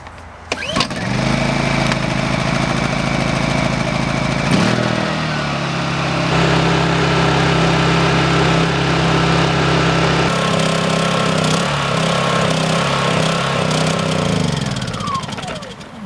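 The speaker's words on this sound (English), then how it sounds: "we'll run the generator with the switch in the fuel off position and let the engine run until the engine turns off by itself" Honda EU2200i inverter generator engine running with the fuel switch off, a loud close steady drone that shifts pitch a few times before dying down at the end.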